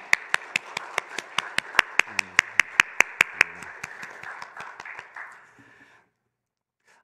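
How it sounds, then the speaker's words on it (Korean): A church congregation claps in a steady, evenly spaced rhythm, about twenty sharp claps that gradually fade and soften before stopping into silence. "우리 손 높이 들어 주님께 영광의 박수 드리겠습니다"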